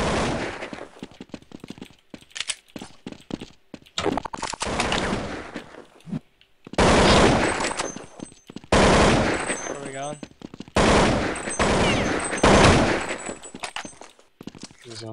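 Counter-Strike 1.6 gunfire, loud rapid automatic bursts and single shots in repeated volleys with brief gaps, close and dominant, with a player's voice briefly heard.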